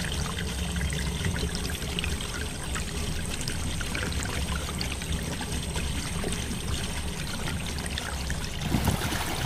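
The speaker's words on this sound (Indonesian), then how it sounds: "ini sungai yang sangat indah, airnya jernih" Clear river water flows steadily along the Ngelambangan river among cliffs in a remote forested village area near Bojonegoro, a continuous close rushing and pouring wash with no voices.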